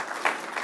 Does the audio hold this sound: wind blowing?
no